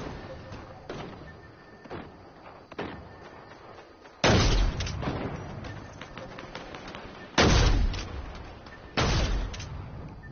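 Gunfire from a shooter game, several loud bursts of shots with sharp onsets and booming tails, interspersed with quieter scattered reports, with a voice speaking at times.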